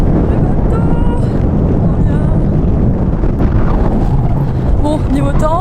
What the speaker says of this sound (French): niveau temps, il y a vraiment beaucoup de vent.